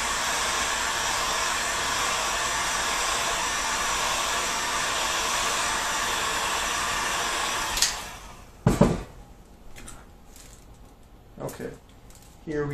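A hot air tool heats a plastic pistol model with a loud, steady broadband blowing roar for about eight seconds. It then cuts off, leaving a few scattered clicks and handling sounds close by.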